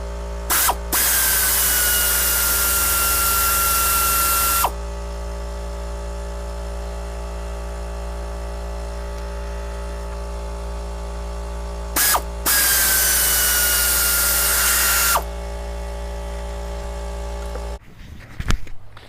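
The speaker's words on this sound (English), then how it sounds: "I'm just going to use a ratchet and get that out of there" A tool working on the bolts of a 300ZX intake plenum, with two long, loud, steady whirring bursts separated by quieter mechanical hum, ending in a few brief clanks.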